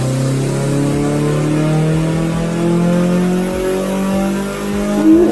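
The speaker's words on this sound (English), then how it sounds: "And he's doing a dyno pull" A Nissan S14 Silvia with an SR20 engine revs hard on a dyno, a loud close engine note climbing steadily in pitch through a full pull, with no voices over it.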